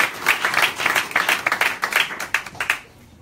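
Audience applause at a live political seminar event in Milan, with many hands clapping steadily and densely for about three seconds before fading out quickly, with no talk over it.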